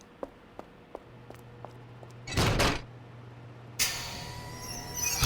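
An office door is pushed shut with a muffled thud, then another solid knock follows a moment later, set against faint scattered clicks in a quiet room.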